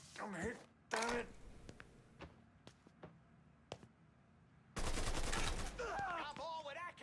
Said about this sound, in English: Get me some covering fire, Frisco.